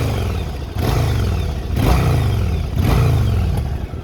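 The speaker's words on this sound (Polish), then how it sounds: "wydechy są cichuteńkie, bo są fabryczne" A 2001 Yamaha DragStar 1100 motorcycle engine with stock exhaust revs up repeatedly, each rise in pitch followed by a drop back to idle, with a fairly mellow, moderate exhaust note.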